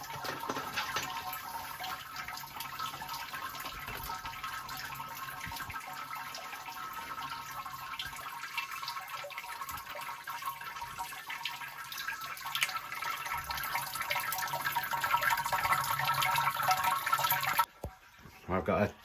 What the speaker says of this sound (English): I've got a tea urn here with the Sparge water heated in it. I'm just going to fill this jug up.